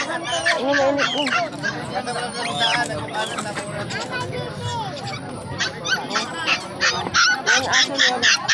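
A dog barks repeatedly amid a noisy mix of honking geese and other fowl at an animal market in San Carlos City, Pangasinan, with people chattering nearby.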